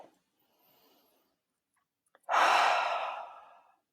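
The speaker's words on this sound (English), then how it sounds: "Take a deep breath." A single deep breath drawn in, faint at first, then a long, close exhale that swells loudly and fades away over about a second and a half.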